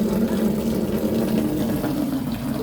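Water pours onto potted plants in a hot-weather garden, a steady, continuous rushing splash with no pauses and no talk.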